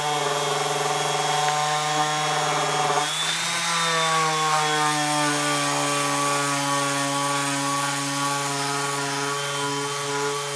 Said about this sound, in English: Burning with the sander.